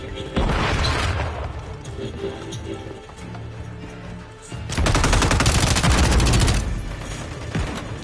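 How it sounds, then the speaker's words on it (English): Loud video-game combat from Call of Duty Modern Warfare: sustained rapid gunfire throughout, with a dense, heavy burst midway that fits a grenade explosion, then more shooting. "Throwing grenade!"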